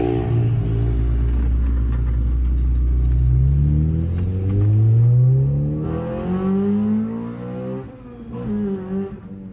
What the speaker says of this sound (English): This is starting to sound like a good engine.